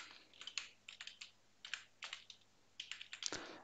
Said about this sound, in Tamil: இங்கே நீங்கள் அப்லோட் பண்ண ஃபைலோட நேம் அங்கே டைப் பண்ணுங்கள்.